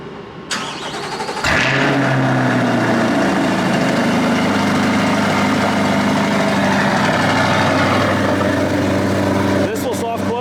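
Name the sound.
Chevrolet Corvette convertible V8 engine cold start and idling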